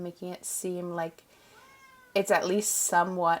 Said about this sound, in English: I can barely hear her, but she's being very dramatic and meowing at the door.